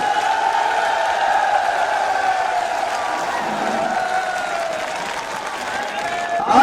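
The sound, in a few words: crowd applauding at a political rally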